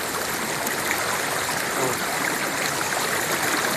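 A clear river flows steadily nearby, its broadband rushing and trickling water sound continuous and fairly loud, with a brief exclamation from a person.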